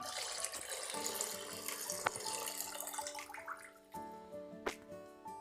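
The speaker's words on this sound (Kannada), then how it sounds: "ಅರ್ಧ ಲೀಟರ್ ಹಾಲನ್ನು ಹಾಕ್ಕೊಳ್ತಾ ಇದ್ದೀನಿ" Half a litre of milk pours into a container for sabudana juice, a soft, steady liquid stream that gurgles and splashes quietly, tapering off toward the end with a few faint drips.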